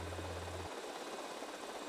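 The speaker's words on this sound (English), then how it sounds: "I get how helicopters work." Helicopter rotor and engine drone in GTA Vice City, a continuous mid-level whirring hum with a low throbbing tone that cuts out partway through while the higher engine noise carries on.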